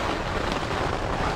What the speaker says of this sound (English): That's over 4 hours of heavy rain now.